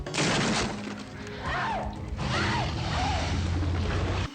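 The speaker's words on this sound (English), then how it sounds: "it's funny when it smashes through that door" A dinosaur smashes through a door in the film Future War: loud crashing and splintering impacts with shattering debris, followed by roaring cries sweeping up and down, close and heavy over a rumbling background.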